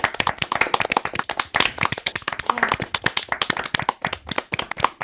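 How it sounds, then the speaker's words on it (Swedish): A group claps in rapid, uneven, dense bursts of applause, loud and close, sustained for several seconds without talking. "Ni behöver inte fortsätta klappa."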